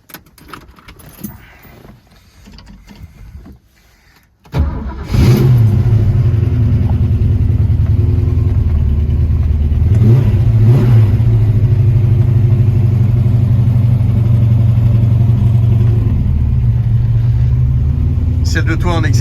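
A prepared 1965 Ford Mustang Fastback V8 cranks and fires after a few seconds of quiet handling noise, then settles into a loud, steady, deep rumble close by, with a couple of light blips of the throttle.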